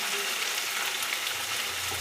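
Chicken and potatoes fry in oil for chicken kasha, giving a steady, close, dense sizzle that fills the short stretch with no pause, with no voice over it.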